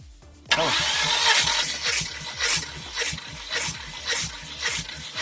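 A warmed-up Volvo S60 engine cranks on the starter during a compression test, giving a loud, steady run of rhythmic chugging pulses with no talk over it.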